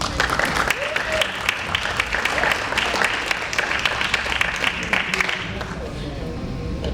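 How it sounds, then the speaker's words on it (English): A Board of Education meeting audience claps for the high school pep band, a lively round of applause that thins out over several seconds while voices murmur underneath. "About one more round of applause for our high school pep band"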